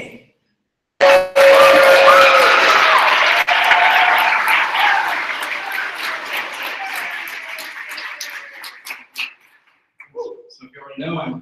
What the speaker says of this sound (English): I want you guys to just roar with applause